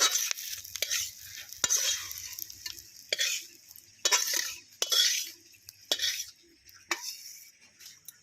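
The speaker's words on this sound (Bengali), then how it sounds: "এবার আমি এই যে রসুন আর লঙ্কা আগেই ভেজে রেখেছিলাম, ওর মধ্যেই আমি তুলে নিচ্ছি চিংড়ি মাছটা।" Prawns hit a pan with fried garlic and chilli, sizzling in short bursts while a metal spoon stirs and scrapes, clinking sharply against the pan several times at close range.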